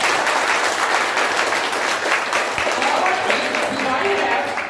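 An audience at a farewell ceremony for a retired education officer keeps up a dense, loud wash of applause throughout, with voices mixed faintly underneath.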